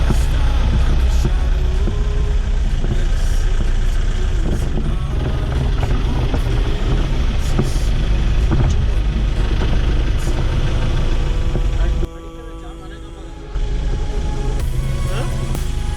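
Pickup truck engine pulling forward with a trailer in tow, a loud, steady low rumble close by. It drops briefly near the end, then carries on.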